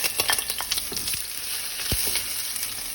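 Chopped garlic sizzles in hot olive oil in a pan, a dense steady frying hiss with scattered crackles and a few stirring clicks, close and loud with no talk.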